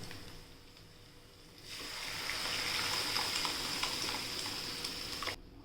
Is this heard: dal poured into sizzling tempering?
yes